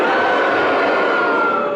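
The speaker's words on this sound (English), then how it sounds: "If you think he has, will you cheer? If you think he hasn't, will you boo?" Studio audience of a 1969–70 radio panel show calling out together on a vote, a loud, dense burst of massed voices cheering and booing at once for under two seconds.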